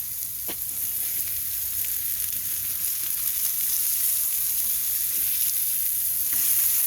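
Smash burgers sear on a hot grill, a dense continuous sizzle close by, with a couple of sharp spatula scrapes as the patties are flipped.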